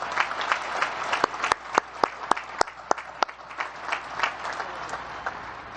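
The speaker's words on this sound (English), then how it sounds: "Let's give Secretary Shanahan another round of applause" Applause from a graduation audience at the Naval Academy for the Acting Defense Secretary, a steady wash of many hands clapping with a few sharp, distinct claps standing out, moderately distant and without speech.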